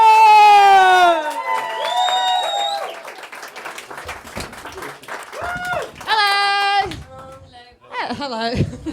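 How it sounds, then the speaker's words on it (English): A comedy club audience claps and cheers, a dense wash of applause with whoops and shouts that swells and dips over several seconds, loud and close, with a host's voice calling over it. "Put your hands together. Keep that clap going."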